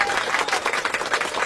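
A short burst of applause, many hands clapping rapidly and evenly for a second and a half, fairly close and steady with no talking over it.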